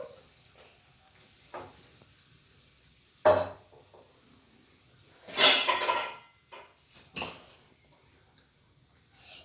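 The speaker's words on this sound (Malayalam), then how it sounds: "ഇപ്പം നമ്മളത് എണ്ണയിൽ പൊരിച്ചെടുക്കുകയാണ് കേട്ടോ." Kantharappam frying in hot oil, with a few loud bursts of sizzling and spattering separated by long quiet stretches, plus faint scattered kitchen clatter.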